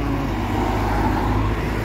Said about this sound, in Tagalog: May dumadaan na bus.